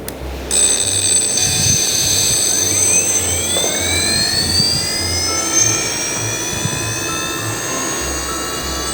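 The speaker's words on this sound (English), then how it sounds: "So we set the reaction wheel speed at a constant value" Satellite reaction wheels on a stationary test setup spinning up to a constant speed, a loud continuous whine that climbs in pitch over a few seconds and then holds steady over a low hum.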